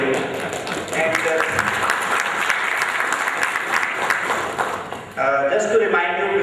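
A conference audience at an e-governance session gives a loud, continuous round of applause, with a sharp change in tone near the end as a voice comes in over the fading claps.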